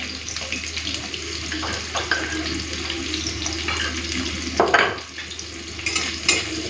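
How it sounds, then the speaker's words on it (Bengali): Chopped onion, whole cumin and crushed garlic frying in hot mustard oil: a steady, close sizzle runs throughout, with occasional stirring scrapes rising above it and no talking. "হালকা একটুখানি ভেজে নিই"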